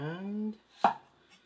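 A brief humming tone fades out, then a Tojiro Chinese-style cleaver cuts a carrot with one loud, close chop that strikes the board and rings off quickly.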